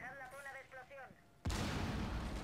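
A voice speaks briefly, then a loud burst of gunfire in the video game Rainbow Six Siege erupts and continues to the end, harsh and close.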